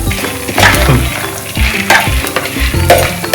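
Oil sizzling loudly in a pan while misal is cooked, close frying crackle with repeated stirring scrapes and clinks in an uneven rhythm.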